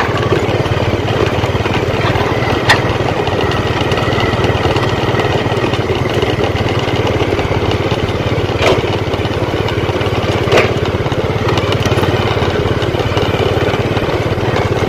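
Excavator or dredger working on construction of the Trung Luong–My Thuan expressway in Tien Giang, giving a loud, continuous engine drone close by, with a few sharp knocks.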